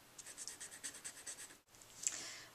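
Stampin' Up Blendabilities alcohol marker blending on paper with the fine nib end, a faint, close scratchy scribbling in quick regular strokes, a brief pause, then a few softer strokes.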